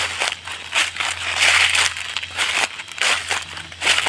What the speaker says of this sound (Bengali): এখানে মরা পাতার মসমসে শব্দটা আসলে দারুণই লাগে